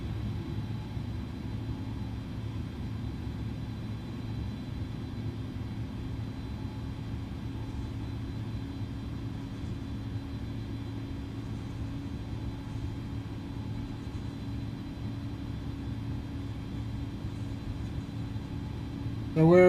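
An airliner taxis to the gate in a flight simulator game, giving a steady low engine rumble and hum that holds evenly throughout without change.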